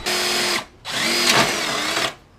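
A power tool whines in two close, loud bursts while backing out a fender bolt on a Honda Pilot during an engine replacement, with a short pause between them and no talking.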